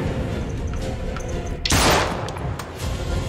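Gunfire in the horror video game Little Hope, a sharp burst of shots breaking through a tense droning background, brief and loud amid a steady game ambience.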